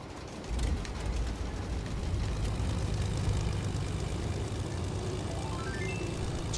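A steady, fairly loud engine drone from an airplane in the video game Fortnite as it stalls after climbing too high, with a faint tone sliding upward toward the end; no talking.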